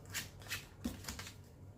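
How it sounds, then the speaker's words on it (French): A deck of playing cards being shuffled by hand, a few quick soft riffling bursts close by, faint and without talk. "là je viens de mélanger le paquet"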